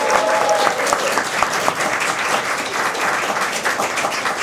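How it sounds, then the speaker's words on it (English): A studio or live show audience gives a loud, sustained round of applause, dense and continuous clapping from a crowd, with a few brief voices faintly mixed in. "A big round of applause for Andrew Keppel."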